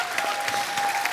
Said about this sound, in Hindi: तुषार, कीकू और कृष्णा के लिए जोरदार तालियां।